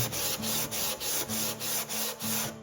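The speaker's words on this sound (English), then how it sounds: "I'll sand and scrape and sand until I get a neck feeling a certain way in my hand." Close hand sanding and scraping of a wooden guitar neck for a jazz kit guitar, repeated even back-and-forth strokes with a gritty rubbing sound and a faint low hum underneath, no talk.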